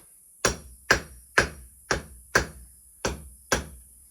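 Seven sharp metallic hammer blows ring out at a steady, even pace as hot metal is forged, each a bright clang on metal with a short ringing decay.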